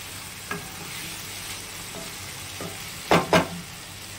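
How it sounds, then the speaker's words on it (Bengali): Spice paste frying in a pan with cooking oil for a young-jackfruit and prawn curry, a steady soft sizzle with a few scraping stirs and two louder spatula clatters near the end, close by and without talk. "এটা দিয়েও হালকা করে একটু ভেজে নেব।"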